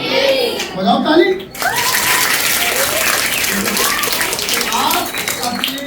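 Students clap their hands at a coaching centre inauguration celebration, a loud sustained burst of applause that starts after a voice and continues evenly to the end.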